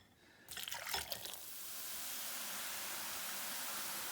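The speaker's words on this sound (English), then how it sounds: "Or just add a load of water to it." Water is poured into a bowl of bath bomb mixture: a splashy burst of pouring, then a steady, fairly quiet rushing hiss that continues to the end.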